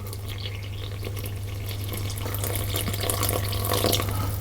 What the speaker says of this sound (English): And pour in most of the water.